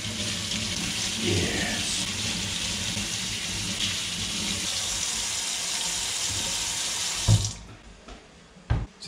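Lemons washed under a running kitchen tap, a steady close splash of water that cuts off near the end, followed by a couple of brief knocks and a short spoken word.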